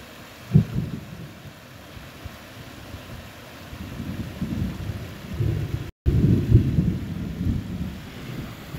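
Rumbling thunder from a storm rolling in over the water on a fishing outing, low sustained rumbles with a sharp crack near the start and heavier rolling swells later, steady wind and rain noise underneath.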